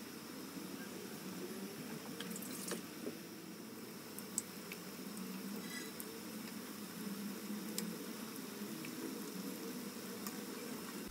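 Köfte meatballs frying in hot oil in a pan, a steady soft sizzle and crackle running throughout with occasional small pops, close and alone with no talk.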